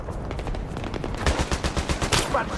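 Rapid machine gun fire in Battlefield 3 while taking out an enemy machine gunner, fast loud steady shot bursts close up, with faint talk in the background.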